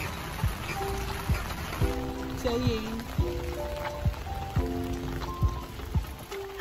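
Rain patters steadily on a surface during a trip to Baguio, with scattered louder drops and tonal beeps and chimes over it and a voice speaking briefly.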